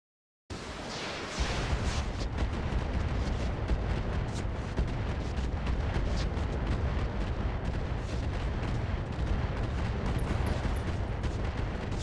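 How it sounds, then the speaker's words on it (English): Ultra Autocannon firing in the video game Battletech Roguetech, a dense sustained barrage of rapid booming shots that starts abruptly after a brief silence and continues loud and unbroken to the end. "we're going to go ahead and fire the Ultra Autocannon too"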